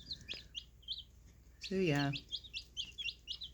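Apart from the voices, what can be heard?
young chickens chirping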